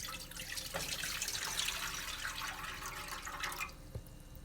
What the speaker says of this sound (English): I'm going to pour 4 cups of water into the pot